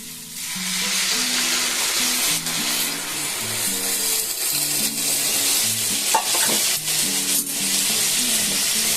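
Steady sizzling and stirring from a pan of fried small-potato curry as warm water goes in, a continuous close hiss with scraping strokes and an underlying hum.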